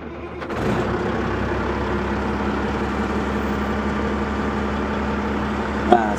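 A Caterpillar unit's diesel engine cranks and catches about half a second in, then settles into a steady, loud, low running drone. Near the end there is one brief sharp knock.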